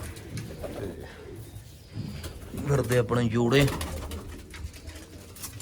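Pigeons in rooftop lofts coo in a run of low throaty notes that swell mid-clip, with someone talking over and around them.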